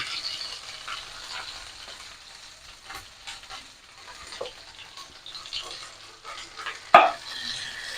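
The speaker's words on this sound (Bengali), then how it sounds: "এবার আমি ভুড়িটা ভালো করে ভেজে নেব" Beef tripe, precooked with turmeric, salt and spices, fries in hot oil with a soft, continuous sizzle and faint stirring scrapes, topped by one louder clank of a utensil near the end.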